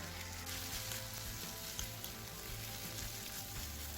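Tomato paste sizzles and fries in a pot while a spoon stirs it, a steady close crackle with faint scraping, cooking for Persian ash reshteh.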